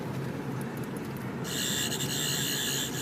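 A plastic 11th Doctor sonic screwdriver toy gives off a steady, hissy electronic whir that turns brighter and more piercing about halfway through, running continuously and fairly loud with no talking.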